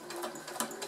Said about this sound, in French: Je fais un petit point d'arrêt et je couds à 5 mm du bord de partout.